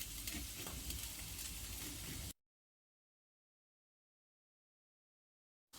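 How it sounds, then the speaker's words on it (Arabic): Green squash slices frying in oil give a steady, dense sizzle for about two seconds, then cut to abrupt silence before the sizzle briefly returns at the very end. "خليه يتقلى"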